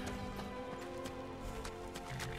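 Rhythmic clip-clop of horse hooves at a steady walking pace over a low ambient background, no speech, in the video game Skyrim.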